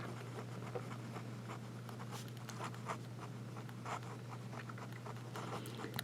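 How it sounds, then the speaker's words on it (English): A Jinhao Dragon King fountain pen writes on paper with its nib reversed, giving faint, close, scratchy strokes in short irregular bursts over a steady low hum. "It's not a real wet nib, but it does lay down the ink"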